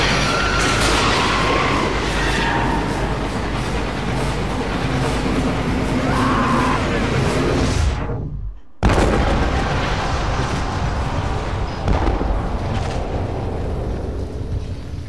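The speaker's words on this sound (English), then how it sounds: "The sounds for those explosions sounded a lot bigger than what they really were" Heavy, rumbling explosions and booming blasts from the video game Beyond: Two Souls roll continuously, briefly cutting to silence midway before the loud barrage resumes.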